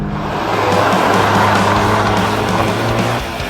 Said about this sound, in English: Just spinning wheels.